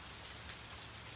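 Steady rain falling outdoors, a soft, even hiss of drops on a surface with no gaps, fairly faint and alone with no voices.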